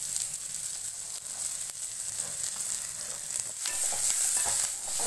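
Cumin, pepper, curry leaves and coconut fry in oil for an eggplant tamarind curry, making a loud, continuous close-up sizzle with bright hiss and light stirring, and no one speaking.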